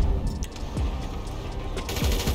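Gunfire at bikers on super bikes in the video game GTA 5, a handful of sharp shots in quick succession over a dense, loud game soundscape.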